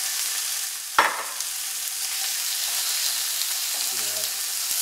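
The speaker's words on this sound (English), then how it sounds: "Well, okay, that sizzle, that's what you want to hear." Chicken sizzles in a frying pan for carbonara, a constant hissing crackle with a sharp clatter near the start and a short low tone toward the end.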